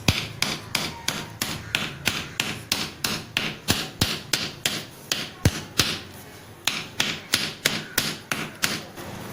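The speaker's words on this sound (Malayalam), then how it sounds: "നമ്മൾ ചിക്കൻ വയ്ക്കാൻ വേണ്ടി ഒരു കമ്പ് നമുക്ക് അടിക്കണം തറയിൽ" A wooden stake is hammered into the ground outdoors for bucket-cooked chicken: about twenty steady, evenly spaced thuds, close and loud, each with a sharp knock, and no talking.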